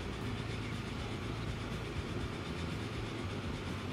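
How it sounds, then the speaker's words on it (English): A train rumbles past in the video game Transport Fever 2, a steady low rolling rush that stays constant and faint, with no talk. "And here comes the sister train."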